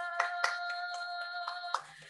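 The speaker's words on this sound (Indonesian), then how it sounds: "Beri tepuk tangan untuk Dia." Hand claps ring out during an online Christian worship service: about half a dozen separate, sharp claps spaced unevenly over sustained musical tones, fairly close and moderately loud.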